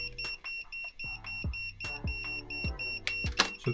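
A gas leak detector beeps with steady high-pitched electronic tones while checking for gas at a water leak repair job in a villa, over clanking work noises and a few sharp knocks nearby.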